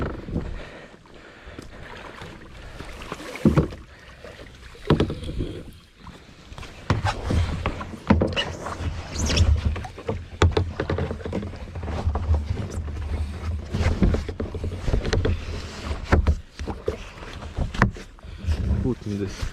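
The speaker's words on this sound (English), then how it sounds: "Gonna start paddling from here, sliding the kayak down to the water." A kayak slides down into a lake and paddling begins, with scraping, sliding and water splashes at close range, gusty wind noise, and a person talking throughout.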